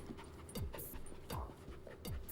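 A dog pants in quick, rhythmic breaths close by, with a few short whimper-like catches between them and no talking.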